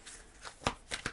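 A tarot card slides from a shuffled deck during a weekly reading, giving a few soft papery swishes and flicks close by, with no talking.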